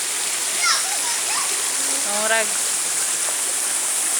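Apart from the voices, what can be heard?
Bayog Waterfalls, flowing waterfall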